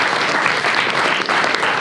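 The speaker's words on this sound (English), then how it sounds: "A round of applause," A brief burst of loud, close audience clapping at a magic show, thick and continuous for under two seconds.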